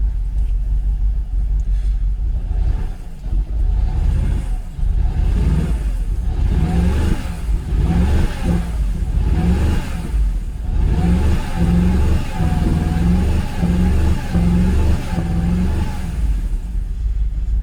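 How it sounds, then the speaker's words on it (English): A Jaguar XKR (X100) V8 with a rough-running fault is revved repeatedly while parked, loud and close. The engine rumbles at idle and then rises in a series of throttle blips that run up against a rev limiter near 3000 RPM. "I know there's a rev limiter up around the 3000 RPM on the XKR, which won't allow me to rev past that."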